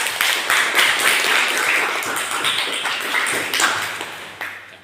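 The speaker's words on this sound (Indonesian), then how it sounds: "Berikan aplaus untuk Reza" A classroom of students applauding a student named Reza, a dense close patter of many hands clapping steadily before fading near the end.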